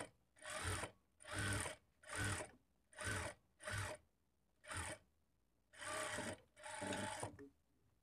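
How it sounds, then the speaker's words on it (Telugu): A sewing machine stitches blouse lining fabric in a series of short, evenly spaced whirring runs, each lasting under a second, quiet and close with brief silent pauses between them. "ఇలా స్టిచ్ చేసుకున్న తర్వాత ఇప్పుడు మరలా 1/2 ఇంచ్ మార్జిన్తో ఇంకొక 2 స్టిచ్చెస్ వేసుకోవాలి."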